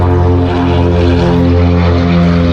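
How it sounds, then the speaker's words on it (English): A 2-stroke outboard motor on a boat runs loud and steady, a close, continuous buzzing drone with dense harmonics and no break. "I love my new outboard. Yeah, it's 2-stroke."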